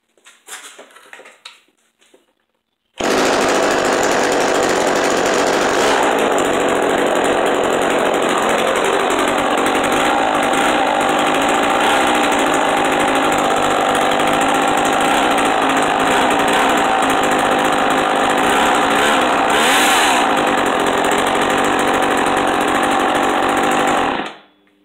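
An antique Homelite chainsaw fitted with a borrowed spark plug starts after a few faint knocks and runs loud and steady close by, a raspy two-stroke buzz with slight revving that holds for about twenty seconds, then cuts off.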